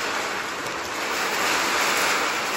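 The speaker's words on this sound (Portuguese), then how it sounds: "tá muito vento mesmo" Strong wind buffeting an outdoor microphone during rain, a steady loud roaring rush with no pauses and no voices.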